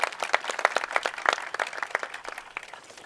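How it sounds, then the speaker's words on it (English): Audience applause at a press conference, a dense burst of many hands clapping that swells early and gradually thins out over about three seconds, with no talking over it. "let's give them all a big round of applause"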